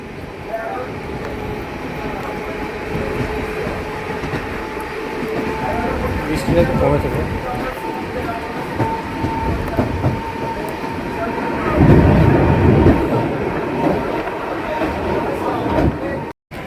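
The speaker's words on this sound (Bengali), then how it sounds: "আহমেদপুর ঢুকছে ট্রেন" A MEMU train pulls into Ahmedpur railway station on a rainy day, a loud, steady rolling rumble with clattering wheels that swells near the end, while a voice talks over it.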